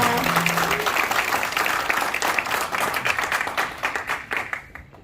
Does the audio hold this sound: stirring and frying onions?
no